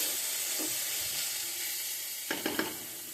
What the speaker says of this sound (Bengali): চোকলা ভাজি করব এই তো বসিয়ে দিয়েছি